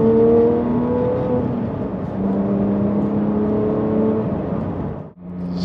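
A Porsche 997 GT3 fitted with Nitron suspension drives along, its flat-six engine droning steadily with rising and falling tonal pitch as revs shift, heard from inside the car, before a brief drop near the end.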